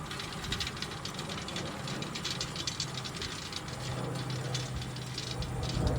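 A hay rake working through thin hay sounds as a steady mechanical rattle and ratcheting clatter under a continuous engine drone, with a low hum rising near the end and no talking.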